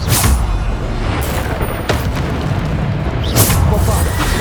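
A Bombarda explosion spell goes off in Hogwarts Legacy, a loud booming blast with roaring rumble layered over dense game sound and repeated impact bursts, while a voice speaks in the clip.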